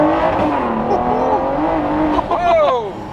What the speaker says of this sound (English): This turbo sound incredible. Boost comes on, the thing rockets, man.